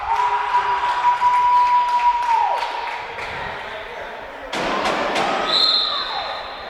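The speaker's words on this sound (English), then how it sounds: "This crowd really getting into it" Spectators at a college men's volleyball match roar and cheer in a gym, squeaky shoes and a sharp ball strike mid-way, the crowd noise swelling again afterwards with tonal whistle-like pings overhead.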